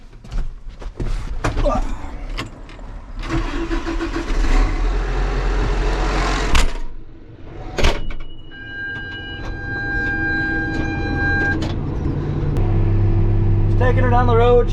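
A tractor pulling a forage chopper along a road: a steady engine rumble with rattling and clunks, a rise in engine note partway through, and someone talking over the drone.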